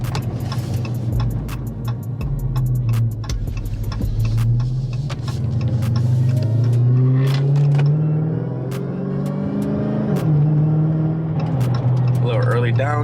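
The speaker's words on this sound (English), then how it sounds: "Early downshift for y'all." An exotic car's engine revs and swells while it downshifts, a loud rising and falling drone with rapid ticking clicks above it, close by, and voices talk over it throughout.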